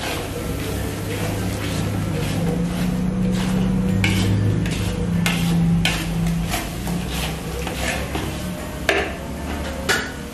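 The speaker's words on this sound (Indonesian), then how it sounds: "Kita tumis sampai harum." Rendang spices for beef rendang being sautéed in a pan, with steady stirring, soft scraping and light utensil clinks over a continuous low sizzle throughout.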